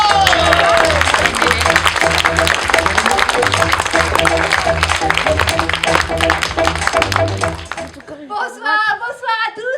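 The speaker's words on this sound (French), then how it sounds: "la Reine des Neiges, qu'on applaudit bien fort" An audience claps loudly for someone costumed as the Snow Queen at a stage show, with busy crowd clapping layered over music with sustained low notes, then cutting off abruptly as a single voice begins speaking.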